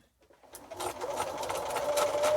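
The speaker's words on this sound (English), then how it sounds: "this basically will stitch the batting onto the topper. And again, I'm just going to do a straight stitch" Sewing machine straight-stitching quilt batting onto a kitchen towel topper, starting after a brief silence and building into a steady, close, rapid whirring run with fast rhythmic needle clatter.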